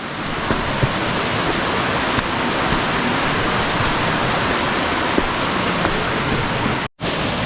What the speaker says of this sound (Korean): 제 8폭포인 은폭포입니다